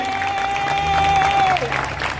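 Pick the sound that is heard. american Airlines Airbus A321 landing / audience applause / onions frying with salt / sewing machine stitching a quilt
audience applause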